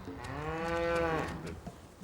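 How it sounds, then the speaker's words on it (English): A single cow moos, long and close, swelling then tapering off, alone without voices. "Yeah, a cow."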